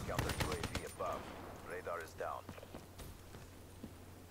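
Gunfire in Black Ops 3, with a fast burst of sharp shots at the start and scattered single reports later over game noise, while a voice talks through the middle.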